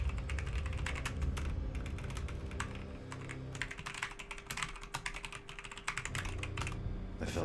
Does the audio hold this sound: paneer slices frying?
no